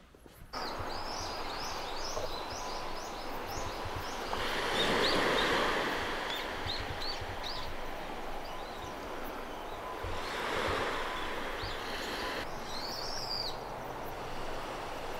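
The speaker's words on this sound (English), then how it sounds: "This is the beautiful Akaogi Beach." Gentle surf at Akaogi Beach on subtropical Amami Oshima island, calm water washing ashore in slow swells that rise and fade, with bird calls chirping over the steady wash and no voices.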